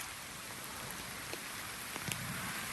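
Steady rain patters and water rushes in a broad, even hiss near Pacific Palisades waterfalls, with a few faint drip-like taps standing out and no voices.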